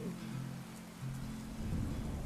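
Steady rain falling outdoors in the mountains, a dense, even hiss of drops with a low rumbling undertone, continuous and moderately loud with no voices.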